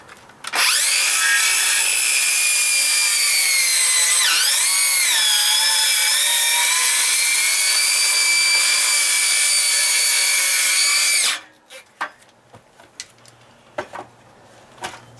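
A handheld circular saw rips through a sheet of plywood in one loud, sustained cut of about eleven seconds, the blade pitch dipping briefly midway, then spinning down into a few faint knocks and taps.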